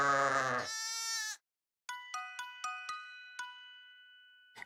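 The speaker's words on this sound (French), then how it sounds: "Il y avait beaucoup de beaux moutons à la fourrure douce dans la grange." Sheep in a barn bleat in a long wavering cry, followed by a quick series of short, clear bleats, sounding close and distinct against a quiet background.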